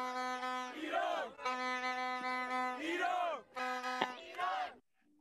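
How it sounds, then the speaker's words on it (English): An audience at a football and leadership forum chants a loud, rhythmic group cheer in strong sustained bursts of several voices together. Short pauses separate the bursts, and the chant ends abruptly. "Kat, for you, we have a special cheer, and I'd like to just share that cheer"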